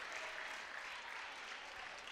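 High school basketball fans, classmates and parents of St. Peter-Marian, applaud and cheer steadily in a gym after a player's 1,000th career point, a fairly faint, even wash of clapping.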